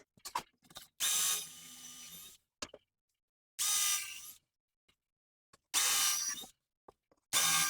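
A power drill boring down through a wooden top into a front piece, in four loud bursts of whirring with short clicks and silent gaps between them.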